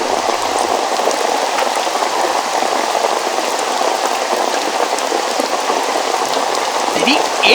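Heavy rain pours down hard in a scene from a Hindi TV crime drama, a dense, loud and unbroken hiss of drops hammering surfaces that stays steady for the whole stretch.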